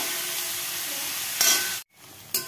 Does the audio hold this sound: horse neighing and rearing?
no